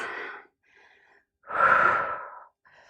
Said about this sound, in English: cleansing breaths